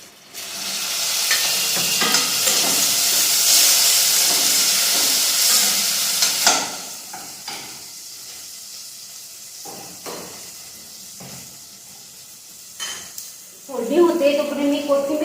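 Chopped onion and tomato hit a hot pan and give a loud, hissing sizzle for about six seconds, then settle into a quieter crackle with occasional stirring clatter; someone talks near the end.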